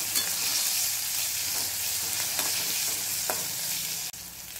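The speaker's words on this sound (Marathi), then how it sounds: "आता मिरची व्यवस्थित हलवून घ्यायची आहे।" Green chilies frying in oil in a pan with turmeric being stirred, a loud continuous sizzle with faint scraping from the stirring that drops off abruptly near the end.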